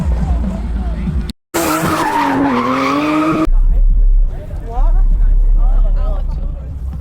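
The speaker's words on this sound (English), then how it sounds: "Yeah, drifting" A car drifting around a roundabout at a London street car meet, loud screeching tire squeal and revving engine, with crowd noise and talking before and after the skid.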